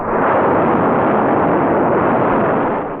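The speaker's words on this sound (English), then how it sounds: "This controlled explosion is sustained evenly by constant propellant flow rates." A loud, steady roar of a Saturn rocket engine firing from the 1962 Apollo program, dense and unbroken, like a powerful engine firing continuously at close range.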